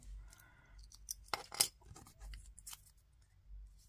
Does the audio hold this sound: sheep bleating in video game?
no